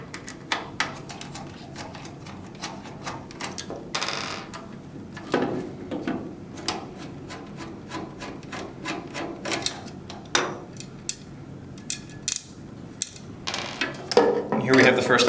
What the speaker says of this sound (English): Next up, we're going to remove 3 832 by 1/4 inch screws that fasten the top of the end plate.